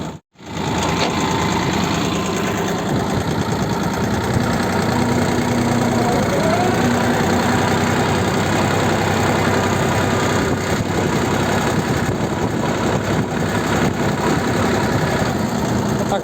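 A Kentavr walk-behind tractor engine runs steadily in low gear while hilling potatoes in a field, a continuous close, vibrating single-cylinder chug with knocking texture and no pauses.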